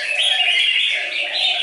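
A red-whiskered bulbul calls loudly and up close, a sustained bright warbling phrase that runs almost unbroken, heard alone without talk.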